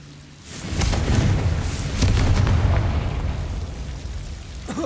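A fire spell explosion, Confringo, in Hogwarts Legacy bursts into a deep rumbling boom that swells and rolls on for a few seconds, loud and close, with no talking.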